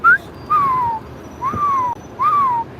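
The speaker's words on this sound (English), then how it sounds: "I'm whistling at you" Three clear, close whistles in a row, each a short rising note followed by a longer falling one, evenly spaced.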